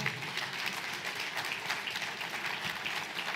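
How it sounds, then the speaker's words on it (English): Dense, steady applause from a conference audience at a panel session of the NIES 2022 summit fills the whole stretch, close and even, with no break or voice on top. "And another round of applause for the panelists and Rolake herself."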